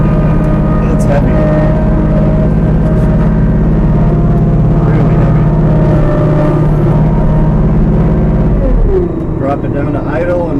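Kubota B2650 compact tractor engine running steadily at high revs while clearing wet, heavy snow, a loud continuous drone that drops sharply toward idle near the end.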